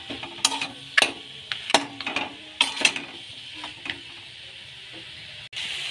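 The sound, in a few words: fish head sizzling while frying with spices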